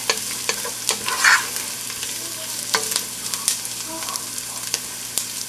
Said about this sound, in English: Give that a quick stir so they don't burn